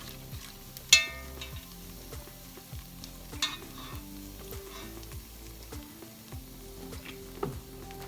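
Stew meat frying in oil in the bottom of a Dutch oven, a quiet steady sizzle with occasional clinks and scrapes of a utensil against the pot.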